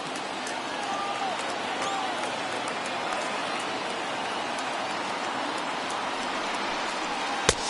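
In the MLB The Show 21 baseball video game, a stadium crowd of over 39,000 cheers and applauds. The roar is steady and broad, holding at an even level throughout, with one sharp knock near the end.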